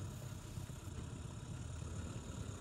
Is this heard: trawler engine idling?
yes